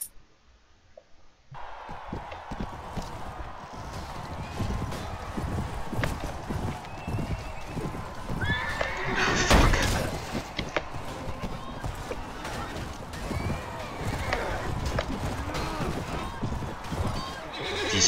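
Horses whinny and gallop in the Mount & Blade: Warband video game, loud neighs over rapid clip-clopping hooves and battle clatter, with one strong burst midway.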